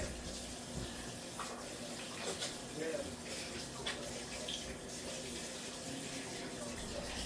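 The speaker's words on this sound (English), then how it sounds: "I'm gonna wash my hands." Steady water from a kitchen tap runs while hands are washed during cooking, a continuous rushing wash at moderate distance with faint kitchen clatter and brief speech over it.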